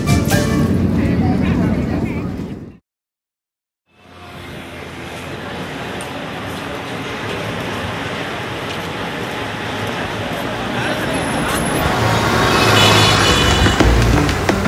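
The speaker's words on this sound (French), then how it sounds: "Les klaxons sont incessants, omniprésents, presque enivrants." Dense Lima street traffic rumbles and roars continuously, a steady wash of engines and road noise with short horn toots, briefly cutting out near the start before resuming and swelling toward the end.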